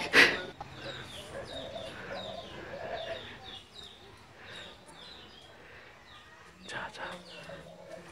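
Chickens cluck and squawk as someone chases and grabs one in a yard, with agitated calls coming in short bursts and people talking over them.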